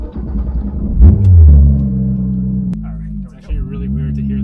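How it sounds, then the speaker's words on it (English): A rear-engined Porsche GT3 RS accelerates on a wet race track, its engine a steady low rumble with a rising surge around the first second and a brief dip later, close and continuous. "It's actually really weird to hear the engine in the back."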